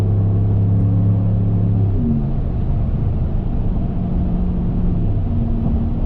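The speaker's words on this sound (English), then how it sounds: "it's just wind noise that really picks up with speed." Steady, loud roar of wind and road noise inside a 2019 Ram 1500 pickup truck at highway speed at night, a constant broadband rush with a low hum underneath.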